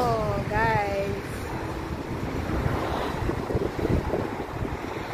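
Strong wind buffets the microphone with a loud, continuous rumble at a kite-selling spot, while a voice speaks briefly at the start over the gusts.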